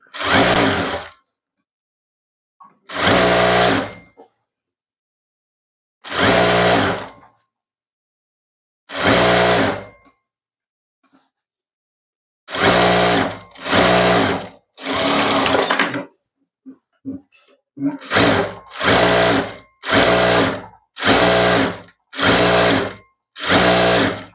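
Sewing machine stitching a straight side seam on a maxi dress made from a saree, running in loud, close bursts of a second or two each, with short pauses between and a rapid run of bursts toward the end.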